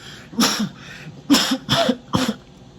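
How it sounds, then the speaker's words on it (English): A person coughs four times in quick, fairly loud bursts spread over a few seconds, with short pauses between them and no speech. "don't get fooled by the cough"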